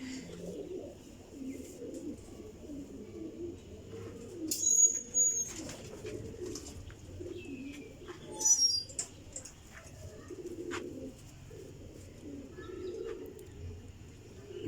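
Champion pigeons coo in low, soft murmurs at close range, with a few brief flutters of wings and faint chirps scattered across a quiet stretch.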